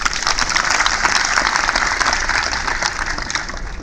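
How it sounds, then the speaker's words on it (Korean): A crowd at an outdoor labor union march and rally applauds loudly and continuously, a thick steady roar of clapping that holds for the whole stretch. "힘찬 격려의 박수 한번 보내드립시다"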